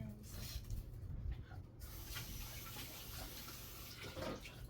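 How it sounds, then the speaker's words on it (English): Tap water runs steadily into a kitchen sink while hands are washed, a soft continuous splashing hiss that stays fairly quiet throughout and has no clear breaks. "let me wash my hands"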